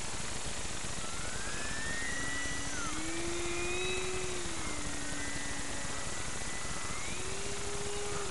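A propeller aircraft drones steadily overhead, its engine pitch slowly rising and falling against a constant hiss, with no voices.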